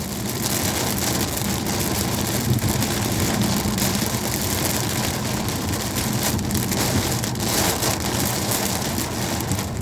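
Heavy rain pours steadily during a Normandy thunderstorm, a dense, even hiss of drops on surfaces with a low rumble underneath, continuous and close throughout.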